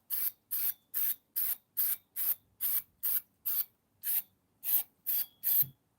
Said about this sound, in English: let me spray this with some brake clean again